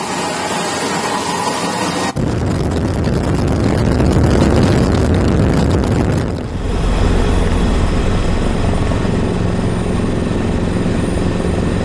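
A TNI AU Caracal helicopter flying over flood-hit land in Tapanuli, a loud, steady rotor and engine roar filling the whole stretch, with a brief cut partway through before the drone continues unbroken.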